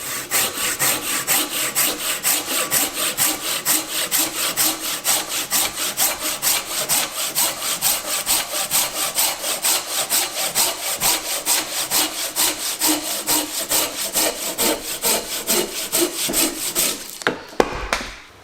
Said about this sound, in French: on va maintenant passer à la Big Boy 360 et on va couper une branche d'environ 8 cm de diamètre.